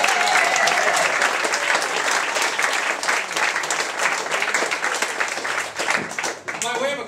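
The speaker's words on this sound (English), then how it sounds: "I think we should give Travis and Guy a round of applause" A political rally crowd gives sustained applause, dense and loud from start to finish, with claps and some cheering that thin slightly near the end.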